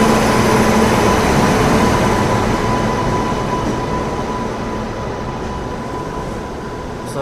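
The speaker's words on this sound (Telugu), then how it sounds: "ఇప్పుడే ప్లాట్ఫామ్ 1 కానీ చూసుకుంటే మనకు వచ్చేసి తిరుమల ఎక్స్ప్రెస్ అనేది వస్తుంది." The Tirumala Express, running from Visakhapatnam to Kadapa, rumbles loudly into platform 1 at a station, a heavy continuous roar with a faint tonal whine that slowly eases as the train slows.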